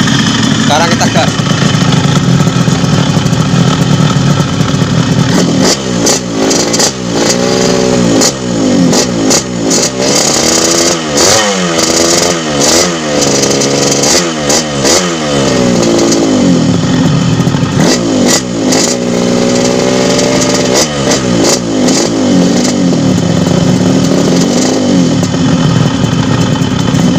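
A Yamaha RX King two-stroke motorcycle engine idles loudly up close, then is revved repeatedly in rising and falling bursts with a raspy, buzzing tone.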